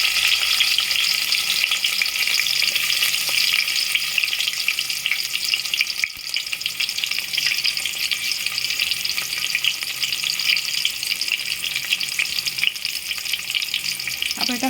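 Potatoes and tomatoes frying in hot oil for a Gujarati-style drumstick and potato sabji, giving a steady, loud, close sizzle that crackles continuously with no talk over it.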